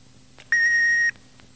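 An answering machine gives a single steady electronic beep, clear and close, lasting about half a second in otherwise quiet surroundings.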